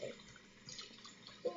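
Warm tap water runs steadily while a stuffed animal is washed, a soft continuous rushing stream close by with a small bump of splashing near the end.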